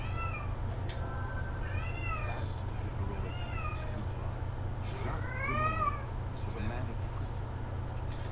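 A cat meows repeatedly in Assassin's Creed Unity, several drawn-out rising and falling cries over a steady low game hum, with someone talking at times.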